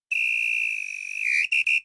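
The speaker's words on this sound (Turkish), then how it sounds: "Ve son düdük." Referee's final whistle in the football video game Head Ball 2, one long shrill blast followed by two short sharp toots, loud and clear with nothing else heard.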